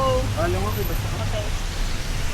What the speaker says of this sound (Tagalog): It's a rainy day here in Dubai